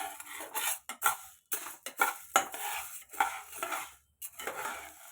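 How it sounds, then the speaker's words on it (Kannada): Dry green gram (moong beans) stirred and fried in a pan, heard as close scraping and rattling bursts of a spoon against the metal in irregular strokes separated by short pauses, with no one talking. "ಹೆಸರು ಕಾಳನ್ನ ಹಾಕ್ಕೊಂಡು ಫ್ರೈ ಮಾಡಿ."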